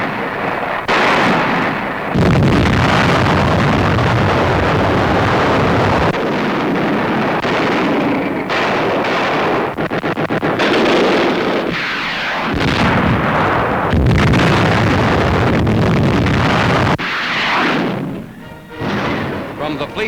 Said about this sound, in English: ships of the United States 7th Fleet open a 3-day pre-invasion barrage